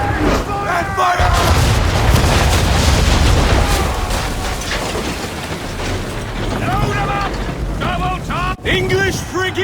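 Ship cannons fire a broadside in Assassin's Creed III, a long rolling barrage of deep booms over a constant roar of battle, loud and close, with shouted voices cutting in near the end.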